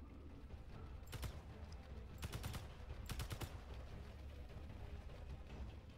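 Gunfire in the Space Engineers survival video game, fired at a spider-like creature: several short bursts of rapid shots over a steady low background hum, fairly faint.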